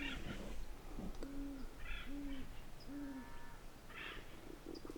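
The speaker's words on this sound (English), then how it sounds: "That's the owl," An owl near a campsite at Lake San Antonio hoots in a series of soft, evenly spaced calls, fairly close, over a steady outdoor background with faint other animal sounds.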